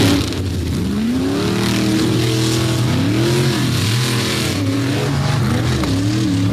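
Tuff trucks roar around a limestone dirt track at a Bloomsburg finals event, engines revving and rising and falling continuously, loud and fairly close, with a constant gritty wash of noise over them.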